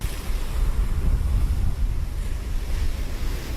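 Rough waves on the Black Sea shore churn and crash in a constant heavy roar, with strong wind buffeting the microphone and no voices.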